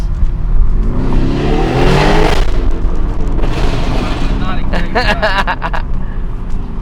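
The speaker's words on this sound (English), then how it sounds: "I put it in Corsa because it backfires." Loud revving from the modded widebody Lamborghini Urus with a VF Engineering tune in Corsa mode, a rising roar followed by a rapid burst of sharp exhaust crackles and pops, with voices talking over it.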